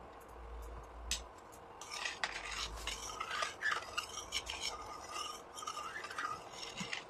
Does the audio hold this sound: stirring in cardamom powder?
yes